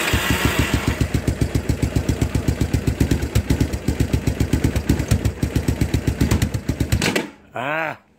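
A 1986 Kawasaki Bayou ATV engine idles close and loud with a fast, even chugging pulse, then cuts out abruptly near the end, followed by a short tonal whine.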